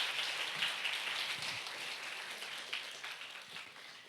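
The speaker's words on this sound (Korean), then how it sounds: "큰 박수로 환영해 주세요." A young adult church congregation gives faint, distant applause in welcome, a soft, even wash of clapping heard at low level.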